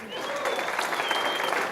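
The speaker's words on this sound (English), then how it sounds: "A round of applause." A burst of clapping from a crowd at a business awards ceremony, steady and moderately loud, with some voices mixed in.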